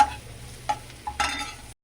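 Kasuri methi fries briefly in a little oil, giving a quiet sizzle punctuated by a few light stirring clinks before it cuts off.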